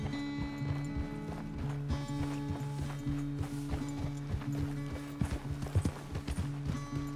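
Horse hooves clip-clopping in Red Dead Redemption 2, a steady walking rhythm of hoof strikes over a low droning music bed, with a few louder, closer hits near the end.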